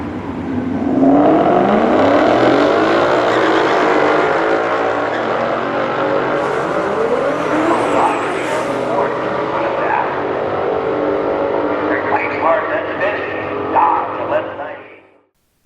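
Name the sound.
Dodge Challenger 6.4-liter Hemi accelerating, in-car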